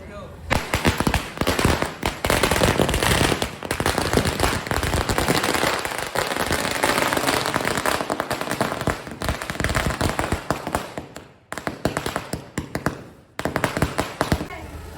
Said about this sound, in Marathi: त्याचं स्वागत आपण फटाके फोडून वगैरे करतोय